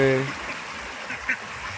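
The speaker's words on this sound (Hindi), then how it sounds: "और बतख तालाब में मछलियाँ देख रहे होंगे" Ducks quack at a fish pond on a poultry farm, a short run of nasal calls at the start that fades, followed by a fainter call later, with voices in the background.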